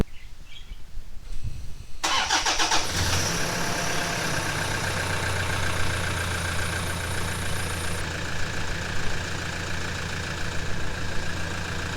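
A Toyota Prado 150 engine cranks and catches after a service, then settles into a steady, even idle that stays close and loud to the end.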